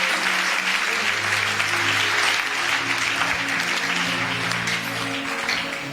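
A church congregation acclaims the Lord with sustained, loud applause and crowd noise that carries through the whole stretch, over steady low instrumental tones.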